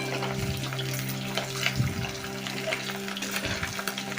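Pieces of chicken 65 frying in hot oil on a high flame, a continuous bubbling sizzle with a few scraping stirs of a spoon through the pan, close and steady.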